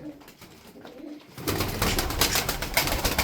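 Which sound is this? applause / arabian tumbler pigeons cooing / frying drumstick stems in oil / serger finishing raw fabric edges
arabian tumbler pigeons cooing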